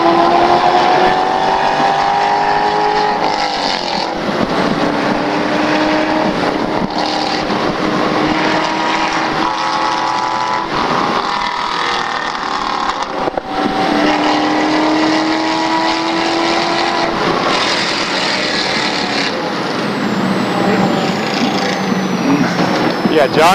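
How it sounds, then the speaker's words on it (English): A Porsche 911 and a BMW E30 race car lap VIR circuit, engines droning loudly and continuously with rising and falling pitch as gears shift, heard close from inside a car with voices talking intermittently over the noise. "John's car is nice and loud"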